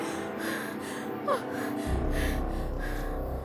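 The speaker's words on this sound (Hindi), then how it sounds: "एक युवती उनकी खाट पर बैठी बुरी तरह हाँफ रही थी" A young woman pants heavily and gasps in a tense drama scene, with ragged breaths repeating close up over a low background rumble and no talking.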